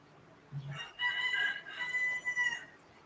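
A rooster lets out one long, drawn-out crow at moderate distance over light background hiss, preceded by a brief low thump.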